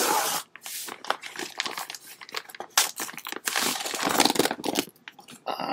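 Paper and plastic packaging tearing and crinkling as a book parcel holding A.C. Merkel's novel London Calling is ripped open, a continuous run of close, loud rips and crumples with no talk.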